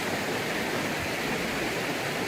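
Mountain stream flowing near Iravangalar Dam in Megamalai, a dense, steady rush of water that fills the whole range, loud and close, with no talking.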